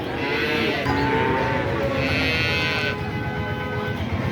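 Cattle moo loudly over and over at a traditional livestock market in Shahjadpur, Sirajganj, the long low calls overlapping against steady crowd and market noise.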